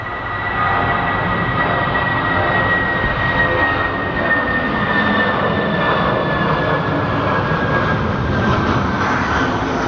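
An SAS airliner takes off from Manchester Airport, its engines giving a loud, steady roar with a high whine on top that holds through the whole clip at close range.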